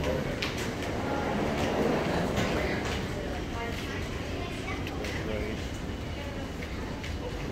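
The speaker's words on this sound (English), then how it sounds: "Gonna ride that train" Rumble and hum of the Denver Airport train, a people-mover ride, held steady as the car runs, with faint clicks and rattles over it and no clear talk.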